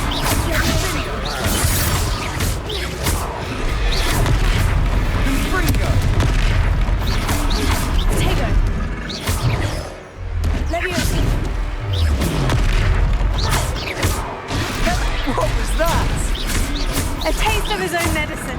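Confringo spell explosions boom through a Hogwarts Legacy battle. They come as repeated loud blasts and whooshes over dense combat effects and music, with character voices shouting at times.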